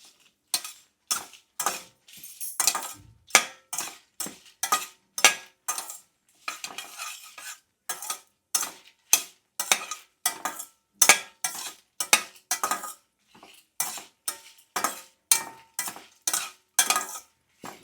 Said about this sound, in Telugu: అందుకని నేను సిమ్లోనే పెట్టి ఫ్రై చేస్తున్నాను.